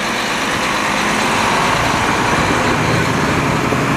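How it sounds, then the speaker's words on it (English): Truck engines rumble loudly and continuously along Rue Sainte-Catherine Est in Montreal's Ville-Marie district, a steady close roar of heavy motors over city traffic noise. "Ah, those motors sound good."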